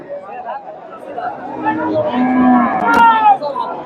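A dairy cow lows at the Chandaikona cattle market, one long, drawn-out moo rising over a busy crowd murmur of nearby people talking.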